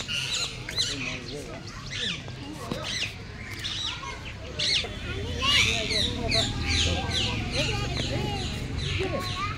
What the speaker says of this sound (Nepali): यो खालको चरा छ के भँगेरा यो पनि पालेको छ